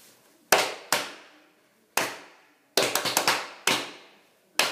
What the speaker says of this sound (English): Hey, clap with us.